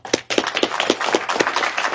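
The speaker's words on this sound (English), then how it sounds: "So I want to just give a good round of applause to all the people who actually" A short burst of clapping at a ribbon-cutting for new animal shelter facilities, honoring staff and volunteers: steady, rhythmic hand claps from a small group, fairly close and lasting about two seconds.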